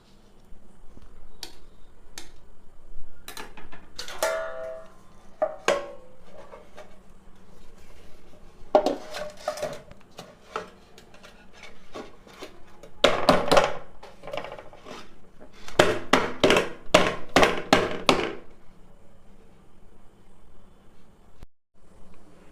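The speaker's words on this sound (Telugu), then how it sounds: "ఇప్పుడు మనము ప్లేట్లోకి తీసుకొని కట్ చేసుకుందాం" A knife cuts through a plate of set rice halwa, producing scattered clicks and taps against the plate, irregular and sometimes in quick clusters, close and fairly crisp with pauses between strokes.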